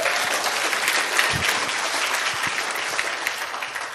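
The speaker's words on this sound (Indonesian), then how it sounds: "tepuk tangan dong" A large seminar crowd claps together in a sustained, dense burst of applause, fairly close and even throughout, fading slightly toward the end with no speech on top.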